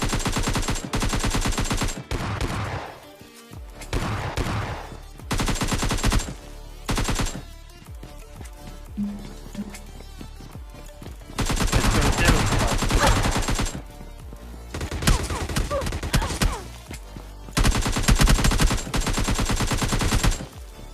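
Gunfire from a battle royale video game, with loud bursts of rapid automatic fire and heavy single shots. The volleys come in clusters separated by short lulls across the whole stretch.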